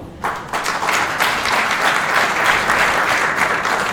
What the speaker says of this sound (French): puisque vous êtes en train d'applaudir